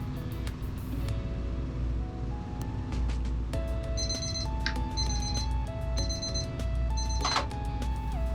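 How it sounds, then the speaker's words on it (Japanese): While pasta cooks in a single pan, a kitchen timer beeps in short repeated electronic bursts, quiet against a steady low background hum and clatter. "タイマーが鳴ったので"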